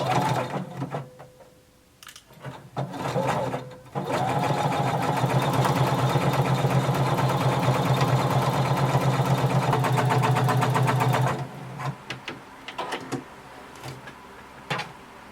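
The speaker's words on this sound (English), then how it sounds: "we're going to start sewing from the bottom up using a 5/8 of an inch seam allowance" A sewing machine runs a zigzag stitch along a seam, a steady fast whirring chatter lasting about seven seconds, framed by brief handling clicks and fabric shuffling before and after.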